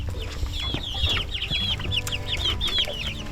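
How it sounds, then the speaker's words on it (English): Baby chickens in a ranch livestock pen chirp and cluck in quick, repeated high peeps over a busy low background hum, fairly close and continuous for a few seconds. "And then here are the baby chickens."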